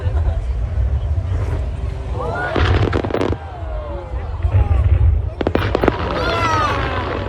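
Fireworks at the Seoul fireworks festival burst in loud clustered pops and crackles, rising above a continuous murmur of crowd chatter.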